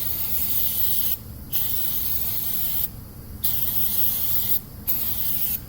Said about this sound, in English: If you just keep spraying on it, you're really just wasting brake cleaner